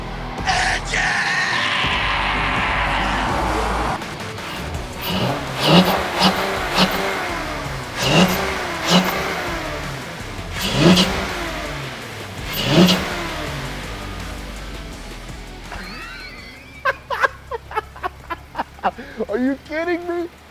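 A car engine with a cold air intake fires up and is revved again and again in loud swelling bursts, capped at 4,000 RPM, followed by a quick string of sharp popping revs.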